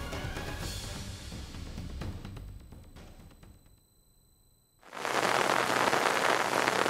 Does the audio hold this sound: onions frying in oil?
no